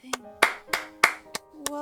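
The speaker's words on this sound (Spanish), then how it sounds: "Un aplauso más." Six sharp hand claps in a steady, slightly uneven rhythm, close and clear, with a faint sustained musical tone underneath during a Metal Gear Solid 2 game playthrough.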